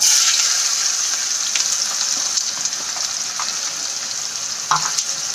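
Chopped onion sautéing in hot oil in a pan with cumin and asafoetida, a steady close sizzle with faint stirring scrapes and one louder clatter near the end.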